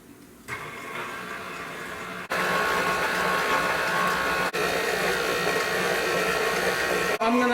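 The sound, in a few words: electric mixer beating dry muffin ingredients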